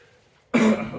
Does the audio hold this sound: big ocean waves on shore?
no